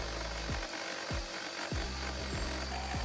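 A jigsaw cuts wood with a rough, rhythmic rasping stroke, repeating roughly every half second under a steady high-pitched machine whine.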